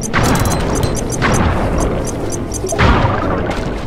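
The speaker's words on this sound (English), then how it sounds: "I can kill myself with my own bombs" Bombs going off in Sly 3: Honor Among Thieves, several loud booming blasts with sharp cracks at uneven intervals amid busy game noise and music.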